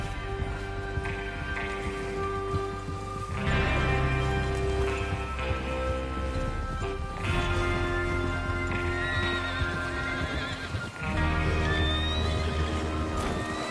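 Horses in the Red Dead Redemption 2 video game whinny and neigh over steady clip-clopping hooves, a loud, continuous mix with no talking.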